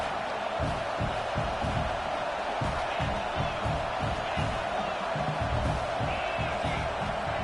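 Stadium crowd roaring and cheering during a college football game, a loud, dense and continuous wash of many voices with rhythmic low thumps throughout.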